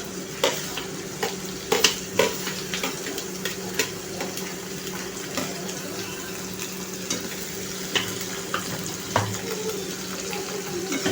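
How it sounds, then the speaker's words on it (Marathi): Chopped onion frying in a pan for spicy tomato chutney, a steady soft sizzle with periodic sharp clinks and scrapes of a spoon stirring, close and fairly quiet with no talking. "आता आपण छानपैकी कांदा टाकूया आणि कांदा लालसर करून घ्यायचा आहे।"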